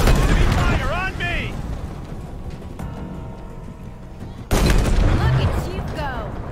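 Rapid gunfire and explosive bursts from the shooter game Halo Infinite crackle loudly in two dense clusters separated by a quieter stretch, with voices talking over the combat.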